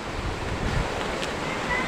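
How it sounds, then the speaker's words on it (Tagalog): Ocean surf at Magdalena Beach Resort in Pinamalayan, Oriental Mindoro, rolls as a steady, close, broadband wash with wind noise on the microphone. "Napapakinig mo talaga yung dagat."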